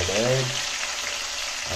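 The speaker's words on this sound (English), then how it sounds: "Curry leaf added." Curry leaves sizzle in hot oil for Udupi-style upma, a steady broadband hiss close by, with a brief voice-like tone at the start.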